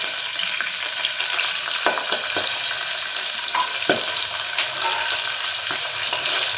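Fresh green peas crackling in hot oil for veg donne biryani, with a steady hiss and scattered sharp pops and spatters throughout, and no voices.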